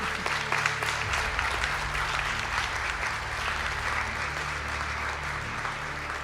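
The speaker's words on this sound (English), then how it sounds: "Could our graduates stand for a round of applause" Sustained audience applause fills a graduate conferring ceremony hall in Donegal, a steady dense clatter of many hands continuing unbroken throughout at an even level.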